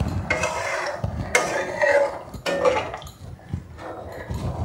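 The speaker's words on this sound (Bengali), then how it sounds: "আমি 10 মিনিটের জন্য ঢাকনাটা দিয়ে দেব" Metal lid being set onto a pot of ash gourd cooking in mustard paste, several close clattering knocks and scrapes of metal on metal in bursts, with a low background hum between them.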